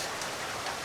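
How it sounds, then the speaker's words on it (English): Rain begins to fall, an even, steady hiss of drops on a surface that holds without a break through the short moment, with no voices over it. "It's not supposed to rain until tomorrow."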